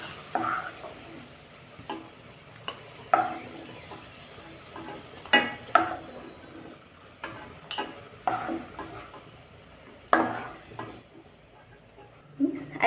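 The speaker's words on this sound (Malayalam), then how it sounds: "നമുക്ക് അണ്ടിപ്പരിപ്പും മുന്തിരിയും ആദ്യം ഒന്ന് വറുത്ത് കോരി വയ്ക്കാം" Cashews and raisins fry in a mix of ghee and coconut oil, giving a faint, steady sizzle with scattered sharp ticks and clinks from stirring.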